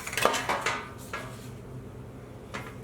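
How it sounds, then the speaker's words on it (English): Scooped baked potatoes being set into a tray in a kitchen, giving a quick cluster of clattering knocks and scrapes of metal and cookware up close, then a couple of lighter taps trailing off. "So what I'm going to do is set up potatoes into a tray."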